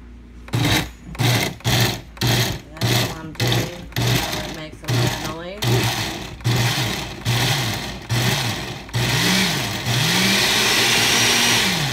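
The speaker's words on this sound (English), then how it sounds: "now it's time to blend it. Puree it is what I'm going to do" A kitchen blender purees salsa ranchera, starting with a series of short, loud motor pulses and then running in one continuous whirring stretch.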